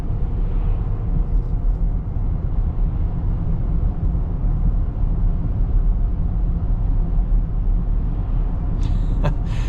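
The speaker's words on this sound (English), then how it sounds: "Wind noise is very, very minor. I almost have no tire noise at all." Inside a 2024 Chevy Blazer EV RS AWD on the road, a steady low rumble of road and wind noise fills the cabin evenly throughout, with a few brief clicks near the end.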